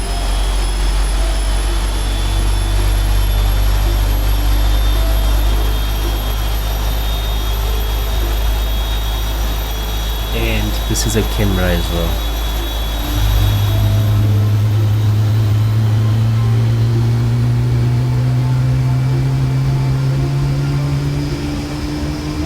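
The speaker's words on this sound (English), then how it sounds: "hop outside just to listen to these mighty engines start up" Aircraft jet engines spooling up during start, a loud steady roar with a rising whine that climbs in pitch midway, heard close from outside, with a brief spoken remark early on.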